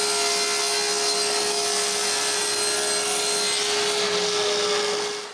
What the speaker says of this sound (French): Je coupe un bout de contreplaqué pour la base.